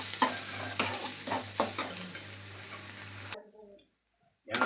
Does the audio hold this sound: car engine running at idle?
no